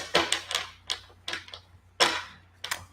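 Tarot cards being shuffled produce a series of soft, close riffling snaps and flicks in irregular bursts, quiet and without talk.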